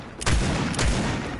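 Gunfire in a video game, two heavy booming shots about half a second apart, each with a long rumbling tail, close and loud with no talking.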